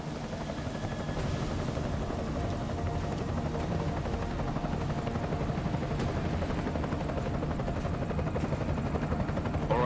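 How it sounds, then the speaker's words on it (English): Enemy helicopter in Deus Ex: Mankind Divided, a steady low rotor thrum and engine drone holding close and loud throughout, with faint gunfire-like bursts mixed into the dense game soundscape. "Enemy helo sighted."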